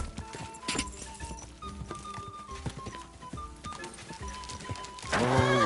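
A horse's hooves clip-clop in Kingdom Come: Deliverance 2, a fast, steady beat of close hoof strikes over background music. The run ends in a louder, busier burst.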